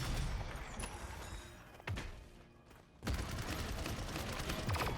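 Russian missiles and grenades explode in the Paladins video game: dense, loud rolling blasts that dip briefly before another barrage surges back in.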